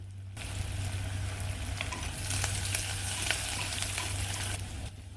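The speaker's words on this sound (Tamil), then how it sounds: "வெங்காயம் சேர்த்து வதக்கலாம்" Onions and curry leaves sauté in a pan over fennel-seed tempering for a rural village breakfast, a steady close-up frying sizzle with light stirring scrapes throughout.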